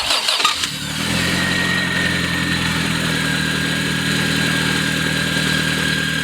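A car engine cranks briefly and catches after an alternator replacement, then settles into a steady, loud, close idle that runs on alone without any talk.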